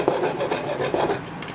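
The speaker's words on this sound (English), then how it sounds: "I'm gonna quickly file the end of it just so it's a little bit more flat" Metal file rasping across the cut end of a rusted steel brake line, a few quick back-and-forth scraping strokes close up with no talk.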